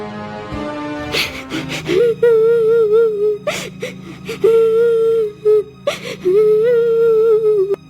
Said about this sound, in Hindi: अरे ये रोने की आवाज किसकी है?